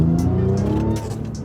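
A tuned 500+ HP Audi A6 with an aftermarket intake accelerates hard, its engine note climbing in pitch with intake whoosh and brief chirps, heard loud and close from the cabin.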